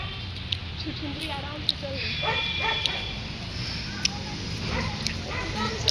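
Dogs bark and yip near a building entrance, several sharp barks scattered over the span while a person talks nervously throughout.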